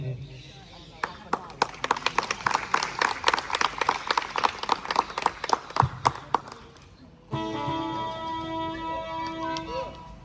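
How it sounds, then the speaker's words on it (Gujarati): Audience applause at an Independence Day celebration in India, a crowd clapping in a rapid, uneven patter for several seconds before it stops and music begins. "એમને તાળીઓથી વધાવજો, જેથી એની હિંમત અવિનવી રહે"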